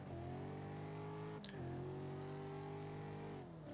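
Racing-game car engine holding a high rev tone, then a quick upshift with a brief drop in pitch before it climbs again, followed by another shift near the end, steady and fairly quiet.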